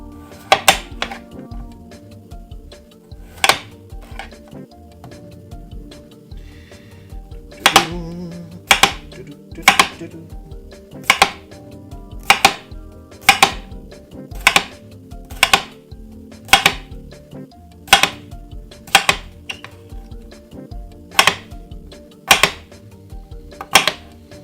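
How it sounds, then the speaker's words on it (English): Knife chopping potato on a cutting board in a home kitchen, with sharp, evenly spaced knocks repeating steadily for more than twenty seconds, close and clear. "Potato, cut her up."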